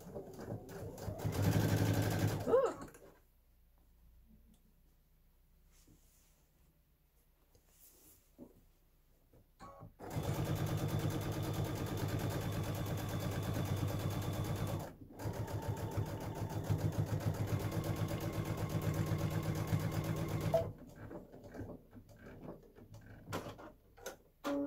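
A sewing machine stitches a quilt binding seam in short, loud close bursts: a brief run at the start, then two longer runs with a short pause between them, separated by quiet stretches.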